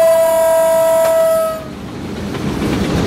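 A locomotive horn blares as one loud, steady tone for about a second and a half, then cuts off and leaves the low rumble and rattle of the moving train.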